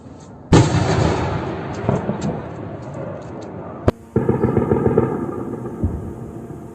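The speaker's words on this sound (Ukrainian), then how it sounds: "Щонайменше вісім вибухів" Several loud explosive blasts and bursts of rapid air defense fire at night in Borisoglebsk, Voronezh region, Russia, booming and crackling in a dense, chaotic barrage with sharp cracks standing out.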